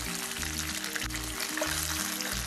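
Chicken wings deep frying in hot oil, a steady close sizzle and crackle filling the whole stretch, with no talking over it.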